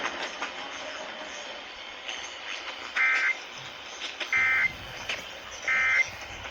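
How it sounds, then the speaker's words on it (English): Iowa Emergency Alert System test broadcast: three short, evenly spaced bursts of buzzy digital header tones rise over a faint hissy background, with no voice. "This is a test of the Iowa Emergency Alert System."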